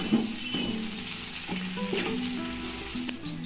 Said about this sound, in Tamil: பச்சை வெங்காயம் நல்லா வந்து வதங்கிடுச்சு